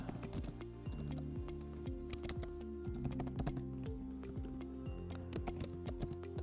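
Rapid typing on a computer keyboard, a dense stream of close clicky keystrokes with an irregular rhythm and no talking.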